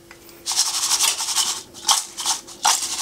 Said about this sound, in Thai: กรอบมากฟังเสียง